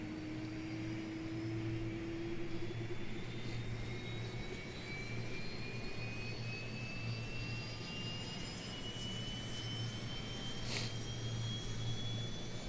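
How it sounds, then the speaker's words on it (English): In the X-Plane 11 flight simulator, the APU of an Airbus A321neo spools up with a steady turbine whine that rises slowly in pitch over a low, constant rumble, heard from outside the aircraft. "we'll listen to this as a little theme, because the APU spool up on this is pretty badass"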